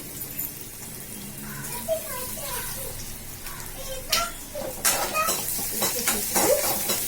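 Shallots, garlic and curry leaves sautéing in hot oil in a pan, a soft continuous sizzle with intermittent stirring scrapes and clinks of utensil against the pan, growing busier toward the end.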